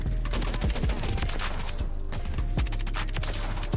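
Rapid automatic gunfire from a conversion-kit gun in Modern Warfare 3 on the Shipment map. Loud, continuous bursts of close shots with sharp cracks run without a break, and no talking is heard.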